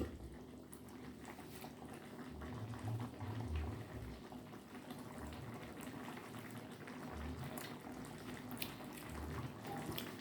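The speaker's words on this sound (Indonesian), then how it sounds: "Nah, ini udah mendidih ya. Udah mendidih ini." Papaya leaf curry soup bubbles at a steady boil in a pot, a soft continuous burble that stays quiet and close with no talking.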